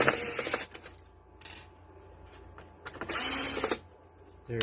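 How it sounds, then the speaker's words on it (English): A screwdriver backs screws out of a DeLonghi Caffe Venezia espresso machine during repair, giving two bursts of high-pitched buzzing near the start and middle, probably from a powered driver, with quieter fiddling between them and no talk. "now I just need to get a screwdriver to take the screws out."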